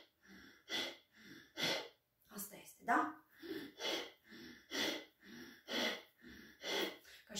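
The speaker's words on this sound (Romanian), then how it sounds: "Fac eu 3 respirații ca să înțelegeți." Forceful abdominal yoga breaths for digestion, rhythmic sharp exhalations repeated about every second, close and fairly loud, with a short spoken phrase partway through.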